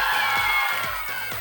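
Studio audience at a Hojamalo game show clapping and cheering, a dense steady wash of applause and crowd noise with no one talking over it.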